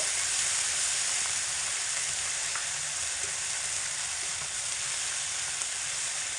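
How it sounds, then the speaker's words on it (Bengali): Cumin and chili paste frying in oil, stirred in a pan, gives a steady, close, dense sizzle with faint scraping stirs underneath and no voices throughout. "এবার হালকা একটু নাড়াচাড়া করে নেব"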